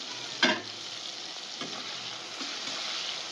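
Tomatoes fry in a pan for a mustard tilapia curry while a spatula stirs them, giving a steady close sizzle with a sharp scrape near the start and a couple of softer strokes later, no voices.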